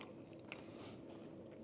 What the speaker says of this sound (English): let's go in again and just going to go harder on the chew